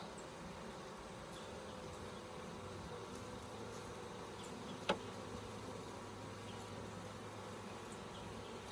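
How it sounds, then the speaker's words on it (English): Honeybees buzzing around an open hive during requeening, a faint steady hum from many bees with one sharp brief click partway through. "if y'all would just move, then I won't have to brush you with that old bee brush"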